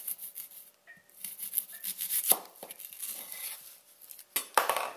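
A knife cuts an onion on a board for vegetable soup, giving a few sharp, close chops and scraping knocks spread irregularly through the quiet.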